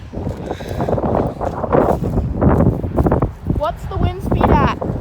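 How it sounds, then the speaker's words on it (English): Strong gusty wind storm with blasts up to 65 mph buffeting the microphone in surging rumbles, heard close and loud while a person talks over it. "We got crazy strong winds here. Gusts up to 65 miles per hour"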